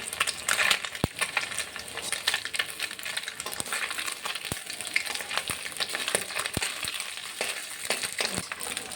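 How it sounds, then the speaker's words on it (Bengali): Small mourala fish sizzle and crackle steadily in hot oil while being stirred, with sharp clicks of a utensil against the pan at intervals; no voices. "মাছগুলোকে ভালো করে নেড়ে চেড়ে ভেজে নিচ্ছি।"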